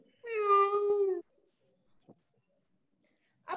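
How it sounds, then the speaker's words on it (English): A house cat lets out a single clear, drawn-out meow of about a second, followed by near silence broken by a couple of faint short sounds. "This is my cat, Subramani."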